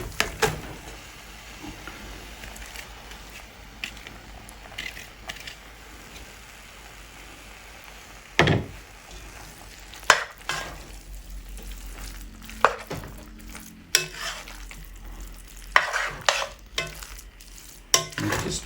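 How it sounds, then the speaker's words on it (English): Limes dropped into a pan of cooking vinegar for lime pickle, then stirred. A soft simmering hiss opens the scene, followed by irregular close clacks and scrapes of stirring in the pan, with no speech. "and now I'm going to add the limes"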